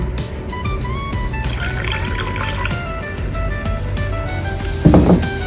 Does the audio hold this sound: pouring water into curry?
yes